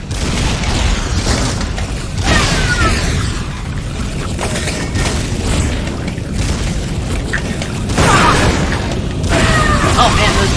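Shotgun blasts in Metal Arms: Glitch in the System, a GameCube game, bursting out over a steady bed of game noise, with a couple of louder booms near the end.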